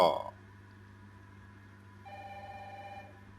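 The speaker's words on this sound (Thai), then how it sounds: "มีเสียงโทรศัพท์ดังขึ้น" In the video game Resident Evil 3, a telephone rings once with a steady electronic tone lasting about a second, after a brief opening thump and a quiet, humming stretch.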